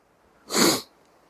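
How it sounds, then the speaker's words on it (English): A single sharp sneeze bursts out close by, brief and loud, with quiet stillness before and after. "I'm going to sneeze."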